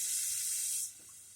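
Chopped onion drops into about a tablespoon and a half of hot Wesson oil and sizzles with a loud, steady, close hiss that eases to a softer sizzle after almost a second.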